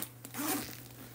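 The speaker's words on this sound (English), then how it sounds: "A nice zipper." A purse zipper pulled open in one quick rasping stroke, close and fairly quiet, lasting about a second.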